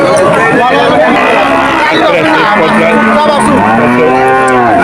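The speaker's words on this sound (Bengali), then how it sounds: "এই যে আরো গরু দেখা যাচ্ছে" Cows lowing at the Udaypur cattle market, loud drawn-out moos near and around amid crowd babble and people talking.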